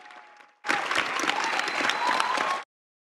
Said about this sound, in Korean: 이를 들어 올리자 환호가 터져나옵니다